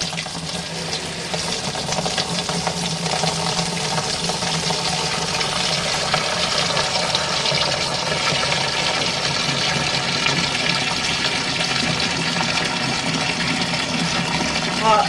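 An RV washing machine fills with hot water at high pressure, making a continuous rushing, splashing flow of water that holds steady for the whole stretch.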